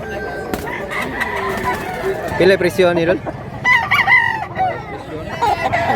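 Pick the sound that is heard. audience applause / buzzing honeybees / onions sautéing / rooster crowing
rooster crowing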